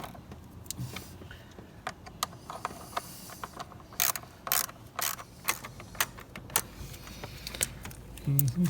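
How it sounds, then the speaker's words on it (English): A ratchet tightens a bolt while the EGR valve is replaced on a Dodge Nitro RT engine, giving quiet, close, irregular clicking bursts with brief pauses and a few louder clacks, with no talking. "Quick, ratchet the bastard in there."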